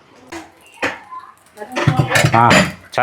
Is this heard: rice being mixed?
yes